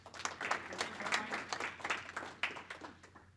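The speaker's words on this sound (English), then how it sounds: "let's give John a round of applause" An audience at an HVAC/R business boot camp applauds to welcome a presenter, a steady, moderately distant round of clapping with a low hum underneath.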